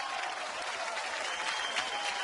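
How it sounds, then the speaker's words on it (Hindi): A studio audience at a Hindi comedy show claps in a dense, steady wave of applause that fills the room without a break. "इनके लिए जोरदार तालियां हो जाए"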